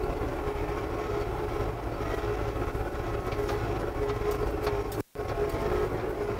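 Yanmar YT3 tractor driving along a row on cruise control with no throttle input, a steady, loud, close engine and drivetrain rumble that holds constant throughout, broken only by a very brief dropout near the end.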